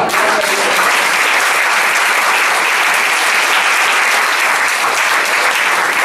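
A church congregation breaks into loud, dense applause during a sermon, a close, continuous roar of many hands clapping that holds steady from start to finish with no voices on top.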